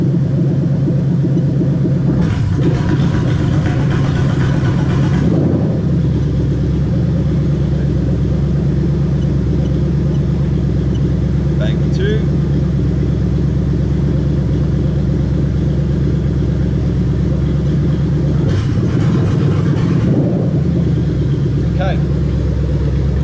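A Toyota 1UZ-FE V8 idles with a steady, close, low rumble throughout, its pitch shifting briefly twice as variable valve timing is commanded during testing.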